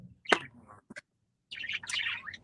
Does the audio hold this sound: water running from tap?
no